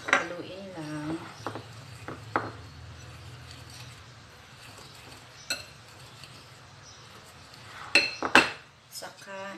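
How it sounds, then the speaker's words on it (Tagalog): Sugar being stirred into pancake batter in a bowl: scattered utensil clinks and taps against the bowl, some sharp and close, others soft, with quiet low rumble between them. "Ayan, tapos haluin lang."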